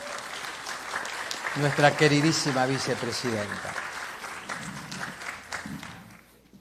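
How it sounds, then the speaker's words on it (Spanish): Audience applause at a family-therapy conference for its vice-president, rising beneath a host's amplified introduction and swelling to a full round of clapping before trailing off. "Fuerte el aplauso para"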